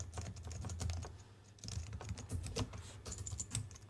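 An email address typed on a computer keyboard, a quick run of close, crisp keystrokes with a brief break partway through, no voices.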